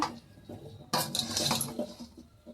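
Cooked rice prasadam being mixed slowly in a metal pot for a Ganesh festival offering, giving soft scraping and clinking of a ladle against the pot in a few brief strokes, close by.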